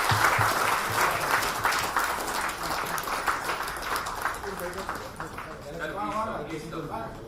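Audience applause fills the hall at an annual general body meeting at Raj Palace Sundar in Adyar, a steady wash of clapping that thins toward the end as voices speak over it.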